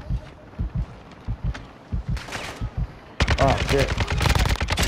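Gunfire in a first-person shooter game: a run of sharp, evenly spaced shots, then a dense, loud burst of rapid fire as a player exclaims over it.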